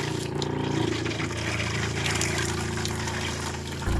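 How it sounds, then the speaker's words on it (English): Plumbing antifreeze runs from an opened cold-water faucet in a travel trailer being winterized, a steady close trickle and splash of liquid with a constant low hum beneath it throughout. "open up the valves one at a time. Start with the cold. And you'll see plumbing antifreeze is coming out nice and pink"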